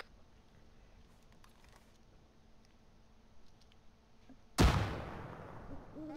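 A frag grenade detonates in ARMA 3 combat, a single loud, close blast that rips in suddenly and then rolls off in a long decaying rumble after several seconds of quiet background ambience.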